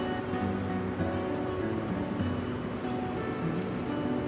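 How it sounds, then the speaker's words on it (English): Wind still whipping the treetops in a forest after a windstorm: a continuous, fairly loud rushing roar with no breaks. "You can see the wind still whipping the trees up at the top."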